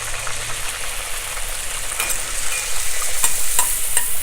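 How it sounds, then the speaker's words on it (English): Whole wheat poori fries in hot oil, a steady close sizzle and bubbling hiss that swells slightly as the dough cooks, with a few faint clinks. "Again it goes into the oil."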